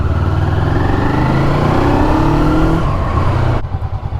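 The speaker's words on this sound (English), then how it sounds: "She's revving fine" A small Honda twin-cylinder motorcycle engine revs steadily and smoothly up close, holding a loud, even drone with a slight rise and fall, then dropping back toward idle near the end.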